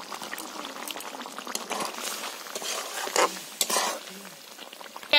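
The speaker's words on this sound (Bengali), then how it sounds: "আমি ফুটিয়ে নেব আলুর দমটা" Potato curry (alur dom) with water and salt added, simmering in a pot: a steady soft bubbling hiss with faint stirring clicks and a brief clatter near the end.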